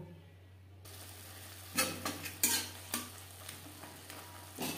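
Food with spices is stirred around in a pan, a series of scraping strokes of irregular rhythm over a steady low hum after a brief quiet start, close and fairly soft, with no talking.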